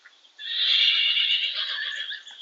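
A horse lets out a single loud whinny that holds for about two seconds, wavering slightly in pitch before trailing off, with no talk over it.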